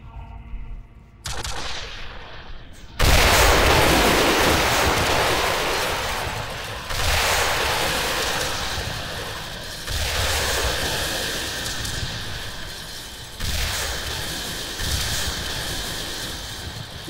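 Heavy cannon fire from a vehicle-mounted gun in the shooter game Quake 4 booms out in four loud blasts spaced a few seconds apart, each with a long rumbling decay and mechanical whirring between shots.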